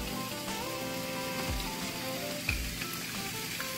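Sliced jalapenos hit a hot pan for vegan black-eyed peas, a steady crackling sizzle that continues throughout, with a couple of soft clinks and stirring scrapes near the start.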